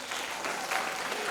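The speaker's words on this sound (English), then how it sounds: "Please clap for yourself." An audience at a literature conclave applauds itself, a dense, steady wash of many hands clapping together, continuous and moderately loud throughout with no distinct individual claps standing out.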